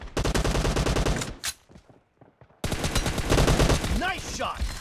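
Rapid M416 assault rifle bursts in a team deathmatch shooter game, loud and close, with a short pause of scattered clicks before another long automatic volley; brief voice callouts rise near the end.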